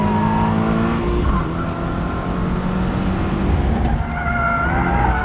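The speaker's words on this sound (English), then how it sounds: "shifting gears right as the tail goes out" A Toyota GR86 on a race track with its rear sliding out mid-shift, a steady loud engine drone and tire scrub running continuously throughout, with no talk.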